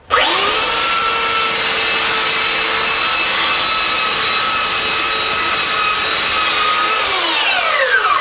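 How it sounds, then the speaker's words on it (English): A sanding pad works across the grain of a wooden piece, giving a loud, steady whining motor hum with a rough scrubbing rasp that runs without a break from start to finish. "I actually sanded cross grain on this with nothing."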